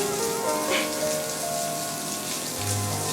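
Steady rain falling and pattering on surfaces, a dense continuous wash of drops with no talk, moderately loud and even throughout.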